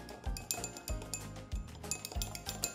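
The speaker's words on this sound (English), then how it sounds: "now I'm going to add my pigment powder and stir that in" Pigment powder is stirred into a coconut oil mixture in a small glass container, producing rhythmic clinking taps of the utensil against glass, roughly every half second, quiet and close.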